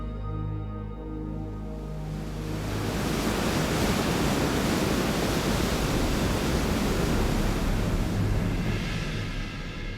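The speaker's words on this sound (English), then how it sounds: "Here, the Iguazu River plunges into more than 200 waterfalls." Iguazu River plunging over a long chain of waterfalls, a massive continuous roar of falling water that builds after a brief low tonal opening and stays loud throughout.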